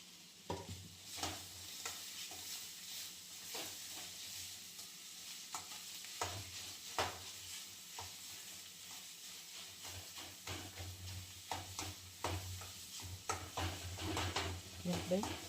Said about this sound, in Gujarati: આપણે 2 મિનિટ આનું ચડવા દઈશું એટલે ગાજર બરાબર ચડી જાય.